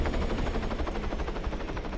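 Rapid automatic gunfire in the video game Arma 3, a dense continuous burst of shots at an even rhythm, loud and close, with nothing else over it.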